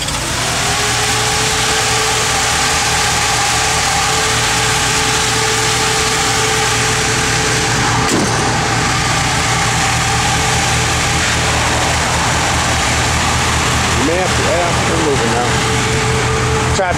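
A 1962 Ford Ranchero engine idles loudly and steadily close by, a continuous low rumble with a brief blip partway through, while someone talks over it.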